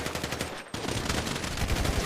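Rapid gunfire in a GTA roleplay team deathmatch, loud close bursts of repeated shots rattling continuously with only a split-second pause.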